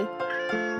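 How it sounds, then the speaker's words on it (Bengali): A cat meows twice in quick succession, close and clear, each call tonal and drawn out. "বিড়াল ডাকে মিউ মিউ।"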